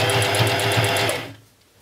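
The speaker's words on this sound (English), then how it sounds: "put the lace on top and then sew it." Sewing machine stitching lace onto a skirt, a close, loud, rapid mechanical chatter that runs steadily for about a second before stopping.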